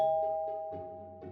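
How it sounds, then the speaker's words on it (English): A doorbell chimes with clear, ringing electronic tones struck a few times in a row, each note lingering and slowly fading, in a quiet room. "when the doorbell rang"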